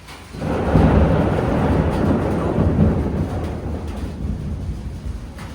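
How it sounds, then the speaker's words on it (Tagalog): Thunder from a lightning storm rolls in as a deep, sustained rumble that swells within the first second and slowly fades, with a faint rain-like hiss beneath. "Lakas ng kidlat dito."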